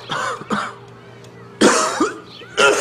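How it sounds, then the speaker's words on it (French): A smoker coughs in several harsh, close bursts, with short pauses between the fits. "si tu continues à nous tousser d'en face de même"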